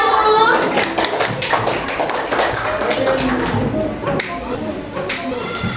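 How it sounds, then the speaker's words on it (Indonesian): Students in a classroom clap their hands for several seconds in a dense, close round of applause, with children's voices chattering underneath. "Beri tepuk tangan untuk kinestetik 1."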